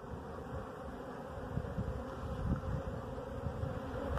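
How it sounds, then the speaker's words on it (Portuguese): Dense swarm of bees buzzing around a wild honey nest outdoors, a steady, close, continuous drone with no voices. "Olha como tá de abelha aqui, ó."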